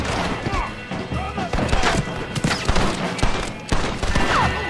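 Dense gunfire in a Red Dead Redemption shootout against snipers, rapid overlapping shots and sharp cracks in a continuous loud barrage, with in-game voices shouting over the fighting.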